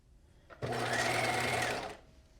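A sewing machine runs a side seam on a knit pencil skirt in one steady, close whirring burst of about a second and a half, beginning abruptly after a brief click and stopping cleanly.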